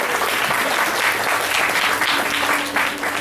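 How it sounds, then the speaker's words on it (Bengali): An audience claps loudly and continuously for the actors after a stage play, a dense, even roar of applause with no voices standing out. "ওদের জন্য একটু জোরে হাততালি হয়ে যাক।"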